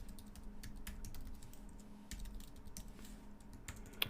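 Code being typed on a computer keyboard: quick, close, fairly quiet key clicks in irregular bursts with brief pauses, heard alone without talk.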